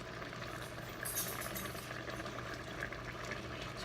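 Chopped vegetables and their juices simmering in a pan for a chili cornbread casserole, a soft steady bubbling and sizzle that stays faint and even throughout, with no talking.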